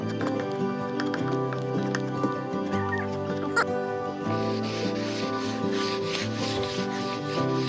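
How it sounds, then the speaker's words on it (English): Hand sanding of wooden moulding on a century-old bay window with a spongy sanding block, a steady rubbing scrape repeated over and over, close by, with background music running underneath. "Sand, sand and more sand. I like to use this these spongy sandy blocks on any mouldings."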